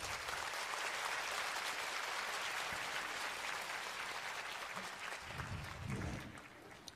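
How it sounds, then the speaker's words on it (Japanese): A concert audience at a band's 40th anniversary live tour final bursts into sustained, dense applause from a large crowd. The clapping tapers slightly near the end as faint voices emerge. "拍手で東京 の方ってどのぐらいいらっしゃるんですか？"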